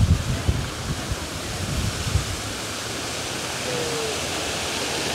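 Water streams along steadily as a broad, even rush outdoors, with some low rumbling bumps early on, then a smooth continuous flow.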